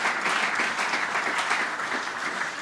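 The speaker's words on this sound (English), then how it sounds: "Can we give Bob Peel a big round of applause?" A banquet crowd at a dinner event gives a steady, dense round of clapping for the chairman, with close, continuous hand claps that hold an even level throughout with no pauses.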